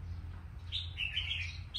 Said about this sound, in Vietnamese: tiếng chim.